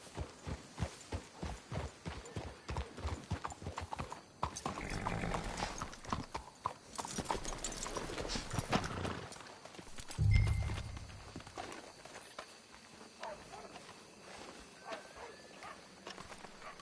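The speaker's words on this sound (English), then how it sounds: "Let's hitch the horses up ahead." Horses walk in Red Dead Redemption 2 with a clear, rhythmic clip-clop of hooves that thins out toward the end, joined by a brief low thump and soft ambient game sounds.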